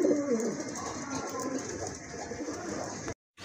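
Several white grizzle pigeons coo and rustle together in a busy, continuous murmur close by, ending abruptly in a brief cut to silence.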